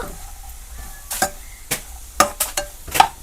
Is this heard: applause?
no